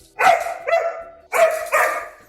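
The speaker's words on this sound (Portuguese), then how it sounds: "Esse é o primeiro cão podcaster do Brasil." Two pairs of loud, close dog barks, each pair a sharp bark followed quickly by a second, separated by a brief pause, with nothing else audible.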